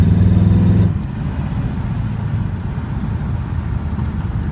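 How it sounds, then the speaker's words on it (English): An LSX V8-swapped BMW E28 drives along, its exhaust loud and droning for the first second, then settling into a steady, lower rumble, recorded on a phone from inside. "But exhaust sounds good too."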